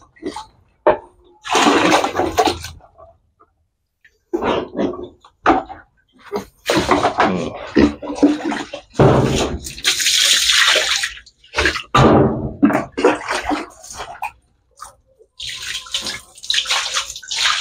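Water gushing through the drain of a concrete pig pen in bursts, splashing and sloshing loudly with short pauses between surges, no voices.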